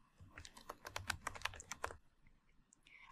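Quick keystrokes on a computer keyboard while a branch label is typed into a diagram, a close, steady run of clicks for about two seconds, then near silence.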